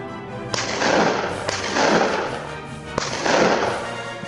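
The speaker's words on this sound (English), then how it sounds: "A gunshot echoed through the valley, but the boar kept running." Three sharp gunshots during a wild boar hunt, roughly a second or more apart, each followed by a long rolling echo through a valley that fills the space between them.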